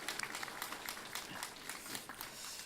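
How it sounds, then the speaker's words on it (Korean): A church congregation applauds during a Sunday morning service, a fairly faint but steady patter of many hands clapping together throughout the short stretch. "우리 고마움의 표시로 박수로 보답하겠습니다."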